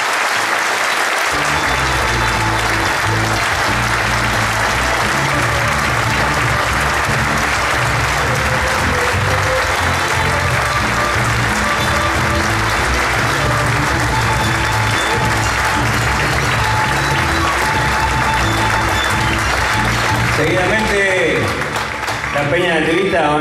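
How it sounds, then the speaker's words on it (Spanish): A large audience at an evening gift-presentation event applauds in a loud, sustained wash of clapping that continues for over twenty seconds before beginning to thin out at the end. "vamos a hacerle otro hermoso aplauso a estos ojitos que nos están mirando"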